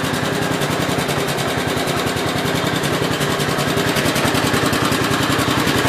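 A 1967 430 motorcycle engine idles steadily during a charging system test, with a loud, even stream of rapid firing pulses throughout and no talk.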